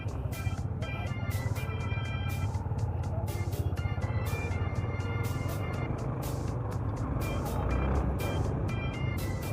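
Dense road traffic during a motorbike ride in Indralaya, with a steady engine and traffic rumble close by and continuous congestion noise throughout, no talking.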